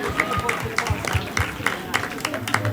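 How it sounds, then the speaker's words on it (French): An audience at a mock-trial debate event at Hôtel El Rancho claps for the jury members, giving rhythmic, fairly close clapping over a background of voices. "Je vous prie de les applaudir"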